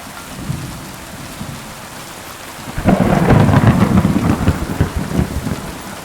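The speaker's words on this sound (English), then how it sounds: "So now I can hear the water hitting my helmet." Rain pours steadily in a medieval game world, Kingdom Come Deliverance II, with thunder rumbling and water striking a metal helmet; a quieter patter gives way midway to a louder, denser downpour and rolling thunder, close and enveloping.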